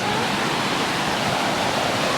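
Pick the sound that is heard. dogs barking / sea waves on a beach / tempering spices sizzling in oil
sea waves on a beach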